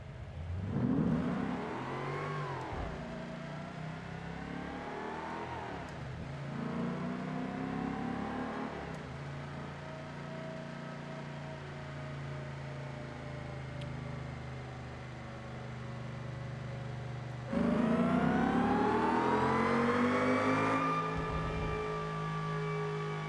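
Supercharged car engine in the BeamNG driving game, revving repeatedly with rising and falling pitch sweeps, then settling into a steady drone before a louder, higher surge near the end, with no talking.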